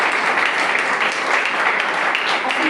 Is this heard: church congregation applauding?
yes